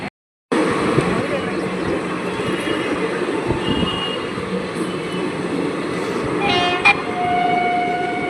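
A train rumbles steadily past at close range at a level crossing, wheels and carriages droning, with a brief high horn toot near the end.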